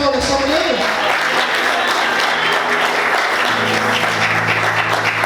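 A congregation at a Sunday morning church service claps loudly and continuously, a dense wash of many hands with voices and music running underneath.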